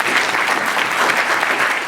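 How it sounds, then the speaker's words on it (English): A brief burst of steady, fairly loud audience applause at a school leadership panel event, many hands clapping continuously from start to finish. "Let's give him a round of applause."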